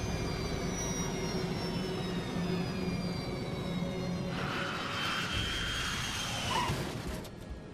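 Airliner touching down on a short runway with engine thrust reduced, a steady jet whine and broadband roar that swells with added rushing noise in the final seconds.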